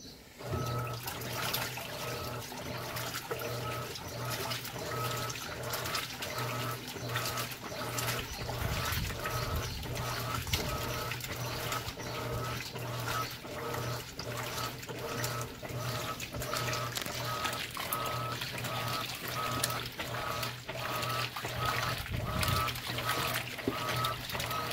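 An Electrolux LPR16 washing machine fills with water at the start of a stain-removal cycle, a steady rushing pour with a low motor hum and faint rhythmic clicks, continuous and close.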